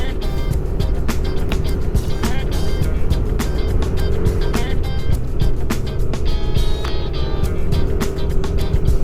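Oncoming cars pass by on the winding Marilaque highway while a rumbling engine drones continuously underneath, steady and loud with repeated sharp swells as the vehicles sweep past.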